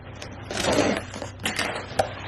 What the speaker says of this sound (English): So I need to cut the box open here.